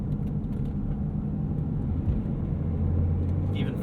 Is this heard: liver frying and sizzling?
no